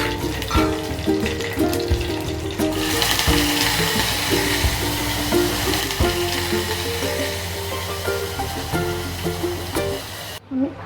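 Spice paste sizzles loudly in hot oil with mustard seeds and curry leaves, a dense steady frying hiss with crackles and spatters throughout, rising after a few seconds and cutting off abruptly near the end.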